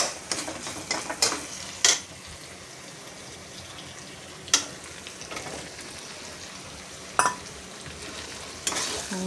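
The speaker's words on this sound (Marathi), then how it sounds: "टमाटा घातला आता. आणि आता बटाटा घालते याच्यात." Tomato and potato sizzle and fry in a pan, with a steady close crackle broken by several sharp scraping stirs of a utensil against the pan, no voices.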